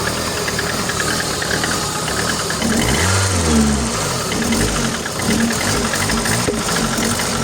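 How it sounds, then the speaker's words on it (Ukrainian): A Lada Kalina with a 1.6 engine misfiring from a suspected sensor or ignition fault, running with a rough, uneven close chug and a brief rising rev in the middle. "Так, прострілює, якийсь датчик не працює або зажигання, щось не так."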